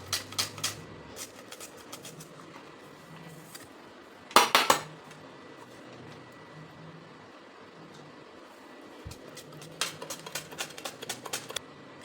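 Onion slices thinly against a handheld slicer grater in quick, rhythmic scraping strokes, with a clattering burst partway through and a faster run of clicks near the end.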